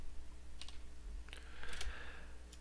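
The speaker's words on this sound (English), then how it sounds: "So we will type server-settings." Light keystrokes on a computer keyboard, a few short bursts of clicks typed quietly and close by while setting up a dedicated game server on a PC, with no voices.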